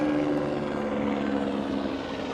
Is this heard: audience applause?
no